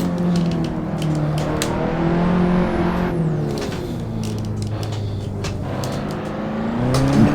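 A BMW E30 in the Assetto Corsa racing game drones loud and close, engine pitch rising and falling through gear changes and corners, with no talk over it.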